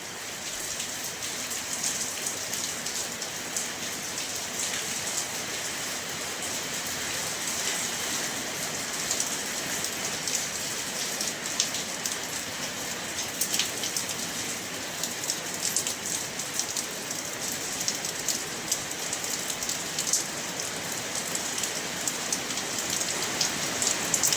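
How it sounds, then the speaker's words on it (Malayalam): Heavy rain pours down steadily and continuously, a dense, close hiss of drops striking surfaces with no voices, holding an even intensity throughout. "മഴയ്ക്ക് ശക്തി പ്രാപിച്ചിരിക്കുന്നു."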